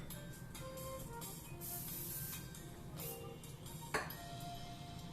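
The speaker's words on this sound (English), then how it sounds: "I gotta spray again." Cooking spray hissing onto a pan while making pancakes, a quiet soft hiss in short bursts with a faint ping near the end.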